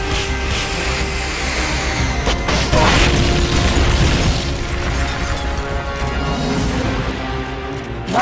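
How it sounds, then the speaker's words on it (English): A rocket launcher fires in Metal Gear Solid Peace Walker, heard as a loud mechanical whoosh and boom amid dense, continuous game noise and hum, swelling near the middle and sustained for several seconds, with no speech. "Firing rocket launcher."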